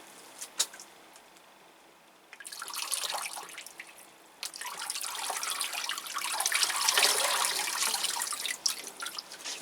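Water pours and splashes onto potted paphiopedilum orchids, starting after a few quiet seconds with faint drips, then a steady close hiss of watering that swells toward the end, no talk.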